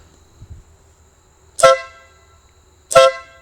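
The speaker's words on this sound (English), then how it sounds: "I did add this air horn here to give me a little more oomph" Two short, loud blasts of an air horn fitted to a Yamaha V Star 650 motorcycle, evenly spaced and close, with a quiet pause between them.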